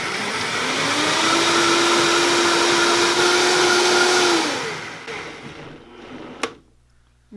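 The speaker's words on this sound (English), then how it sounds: "So I'm going to turn this on, and I'm going to go full throttle." A kitchen blender run at full throttle for a vegan smoothie gives a loud, steady whirring whine that holds for several seconds, then winds down and cuts off, followed by a brief clack and quiet.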